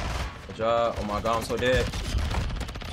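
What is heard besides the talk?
SMG gunfire in Call of Duty MW2 video game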